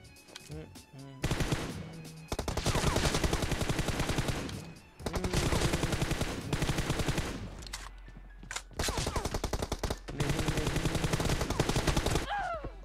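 Gunfire in the mobile battle royale game Battlegrounds Mobile India during a team deathmatch, rapid automatic bursts repeating across most of the stretch, loud and dense, with brief pauses between volleys.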